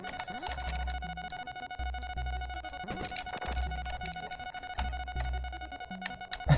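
A steady, insistent low-HP warning tone drones without pause through busy game sounds in the mining game Dig-N-Rig, with repeating low thumps underneath.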